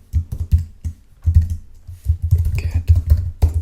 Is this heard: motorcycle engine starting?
no